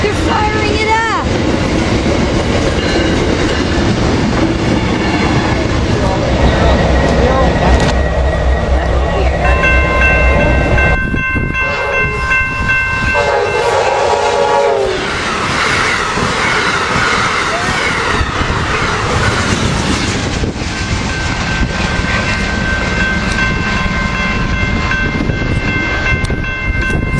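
A GE diesel locomotive, Amtrak NPCU 90208, fires up and idles. A loud, continuous rail engine rumble with clanks and shifting tones carries through the whole stretch.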